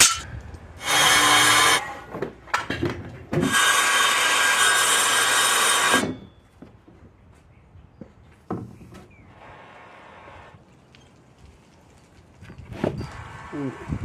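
A hand saw cuts into a quartz crystal yard ornament outdoors in loud, broad, gritty strokes. Two long runs of sawing come first, followed by quieter scraping and a few knocks.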